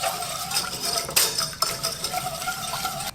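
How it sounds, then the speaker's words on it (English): A utensil stirs milk into white sauce in a pan, with continuous scraping and swishing against the metal and a few sharper clinks, close and clear with no speech. "Keep on stirring while adding the milk."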